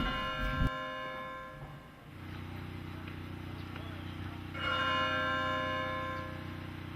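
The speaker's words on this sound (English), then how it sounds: "we're going to ring the bell every time somebody comes home" A church bell in post-Katrina New Orleans, rung each time a resident returns home, gives two separate strikes with a long humming ring that lingers over a low, steady background rumble.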